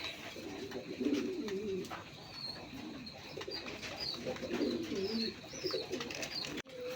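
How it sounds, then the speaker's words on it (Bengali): Pigeons, a pair of local domestic birds, coo softly and repeatedly nearby, low throaty calls rising and falling, with faint chirps from other birds in the background. "বন্ধুরা এখানে এক জোড়া কবুতর আছে দেখেন"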